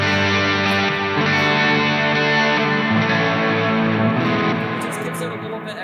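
Clean-tone electric guitar played through a pedalboard, sustained chords ringing out loud and close, with the notes slowly fading toward the end.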